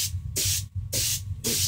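An airbrush sprays silver stain onto hardened leather in three short hissing bursts separated by brief pauses, close and steady, over a low mechanical hum.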